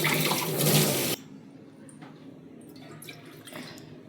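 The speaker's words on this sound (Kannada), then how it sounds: "4 ಗ್ಲಾಸ್ ನೀರು ಹಾಕಬೇಕು." Water pours into a pot of rice in a home kitchen, a loud broadband gush for about a second, then stops, leaving faint drips and light clinks.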